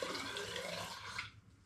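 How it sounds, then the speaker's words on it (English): Apple and berry hard cider pours in a steady, close liquid stream into a hydrometer tube, a continuous splashing trickle that stops abruptly near the end. "So I'm just going to pour a little bit of this"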